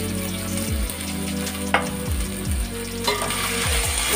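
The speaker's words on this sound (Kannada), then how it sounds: "ಇದು ಫ್ರೈ ಮಾಡ್ಕೊಳ್ಳೋಣ, ಬೇಗ ಫ್ರೈ ಆಗುತ್ತೆ." Chopped spring onions frying in a pan for chicken mandi, a steady close sizzle with a few stirring scrapes and light clinks throughout.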